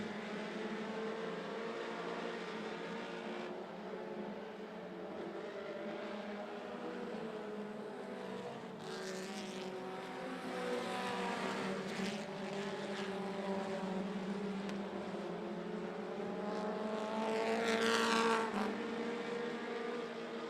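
Mini stock race cars roar around the oval at 411 Motor Speedway, a steady distant engine drone that swells as cars pass, with no voices over it.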